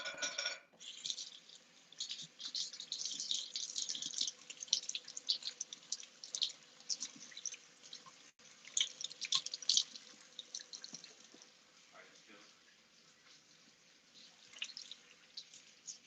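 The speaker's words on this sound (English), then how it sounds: "So I'm just gonna wash my hands." Running tap water splashes steadily into a sink while hands are washed during a Jamaican jerk barbecue chicken cooking session, a continuous close hiss and patter with no talking.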